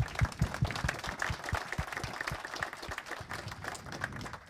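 An audience claps in applause at the close of a tech presentation, a dense burst of many hands that stays steady and close and then tapers slightly toward the end.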